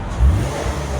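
Stock exhaust of a 2018 Lexus RC 350 V6 F Sport coupe, a short low rev blip swelling then settling into a steady idle rumble, close by.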